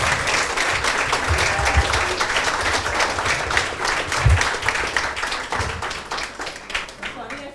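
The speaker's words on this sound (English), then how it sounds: "A round of applause," Audience applause for an older woman who still plays the piano, at a family gathering; steady close clapping from a small crowd, with voices mixed in underneath.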